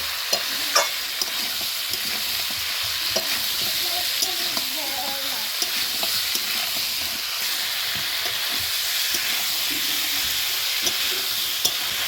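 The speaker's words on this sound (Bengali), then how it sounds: "এখন এই মশলার সঙ্গে ভালোভাবে আমি সবজিগুলোকে কষিয়ে নেব" Young brinjal, squash and tomato being stirred and sautéed with masala for a fish curry, a steady close sizzle and hiss with frequent scraping stir clicks throughout, and faint talk in the background.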